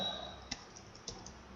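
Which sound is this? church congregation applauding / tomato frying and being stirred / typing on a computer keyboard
typing on a computer keyboard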